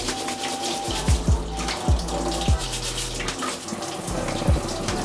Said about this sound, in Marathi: त्याचे पाय तोडलात ना की असे नळाखाली चांगलं धुवून